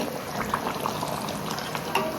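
A pot of chicken simmers beside a pot of boiling water, giving a steady close bubbling and faint sizzling with small pops, no voices.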